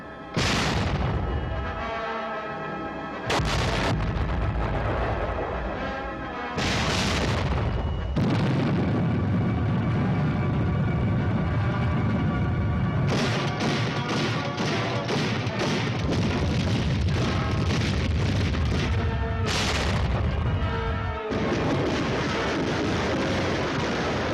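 Modern army artillery and heavy weapons fire in a military firepower demonstration, booming blasts and crashing explosions repeating through the clip with rumbling echoes between, loud and continuous with no talk.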